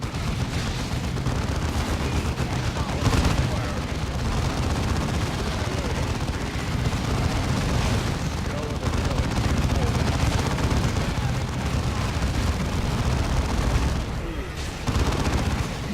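Dense gunfire and explosions roar steadily through a Dawn of War 2 co-op campaign battle, with rattling shots and booms layered over each other at high level, and voices talking over the din.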